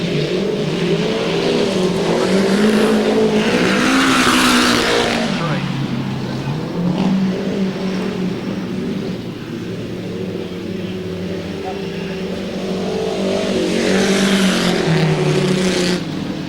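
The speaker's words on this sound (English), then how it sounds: "Seeing those cars come around the track." Vintage speedcars racing around a speedway track at Exhibition Grounds Brisbane, loud continuous engine roar that swells as cars pass close and fades between passes, with a voice talking over it.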